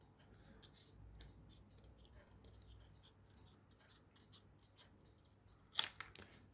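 Faint, scattered snips of scissors cutting thin card for a small paper model of a Hawker Siddeley Harrier aeroplane, quiet irregular clicks with one sharper, louder cut near the end.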